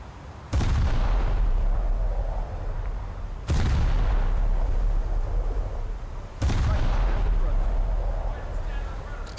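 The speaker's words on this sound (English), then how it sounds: "I think those main guns are actually going to miss" Main guns on a warship fire in a naval video game: three heavy booming salvos spaced a few seconds apart, each a sharp blast trailing into a long rumbling decay, loud and close.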